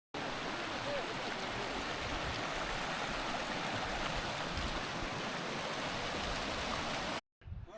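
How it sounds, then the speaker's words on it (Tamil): Small waterfalls and streams in an Afghan national park rush in a steady, loud, close wash of falling water that runs unbroken for about seven seconds before cutting off briefly. "அங்கங்கே குட்டி குட்டி வாட்டர் ஃபால்"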